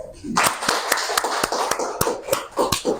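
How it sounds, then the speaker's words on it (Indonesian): A small group claps for a teacher at the end of a school presentation, with a string of sharp close handclaps at an uneven rhythm over about three seconds, mixed with some voices. "Mari teman-teman kita beri aplaus untuk Ibu Optik."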